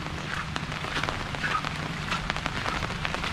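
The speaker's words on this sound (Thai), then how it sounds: "บรรยากาศช่วง ฝนตกตก" Rain falls steadily during a market trip in the town of Khemarat, a dense, fairly loud patter with crackling drops hitting surfaces nearby, and no one speaking.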